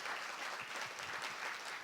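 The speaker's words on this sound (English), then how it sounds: "let's give another round of applause for our presenters today" Audience at an environmental epidemiology conference session claps for the presenters, a dense, even burst of applause from a moderately sized room that carries on without a break for the whole short stretch.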